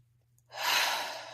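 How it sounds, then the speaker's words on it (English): A single deep breath drawn in and slowly let out, close and soft, alone in a quiet room with a faint hum. "just take a deep breath and breathe"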